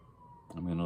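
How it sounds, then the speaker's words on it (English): An emergency siren starts up partway through, its rising wail growing louder and quite close as it passes, after a moment of quiet background hum. "I'm going to let that siren pass."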